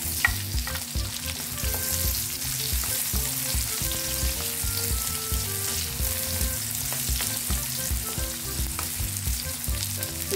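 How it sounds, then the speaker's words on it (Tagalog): Garlic followed by onion sautéing in a pan for spicy oyster adobo: a loud, continuous sizzle with frequent stirring scrapes, close up and without talk. "Magigisa tayo ng bawang. Sunod natin yung sibuyas."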